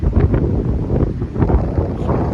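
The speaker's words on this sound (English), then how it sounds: "My apologies for the crazy wind." Strong wind buffeting the microphone with a continuous low rumbling roar, loud and gusting throughout.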